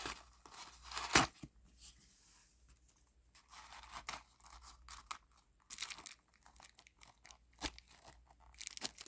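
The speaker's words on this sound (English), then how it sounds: "This foam, I can take this out." Foam packing pulled from a Dooney & Bourke handbag makes scattered crunching, rubbing and crinkling noises, with one sharp tearing scrape early on and irregular soft rustles that come and go.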